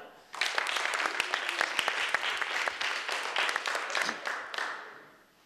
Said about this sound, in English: A little applause for Nadja.